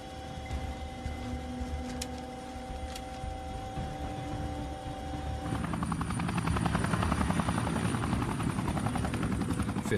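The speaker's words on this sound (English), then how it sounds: "After a series of short flights, the Chinook returns to RAF Aldergrove." Chinook helicopter in flight, a close, droning rotor and engine whine that grows louder and fuller partway through, with a steady rapid blade chop and no voices.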